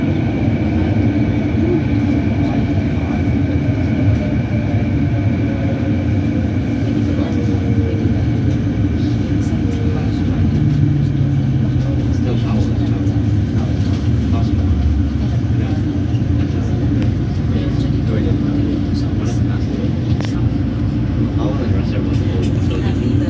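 Canada Line train riding between stations toward Richmond–Brighouse, a loud continuous rumble and rail whine inside the car, with steady speed sounds and occasional automated announcements heard over the noise.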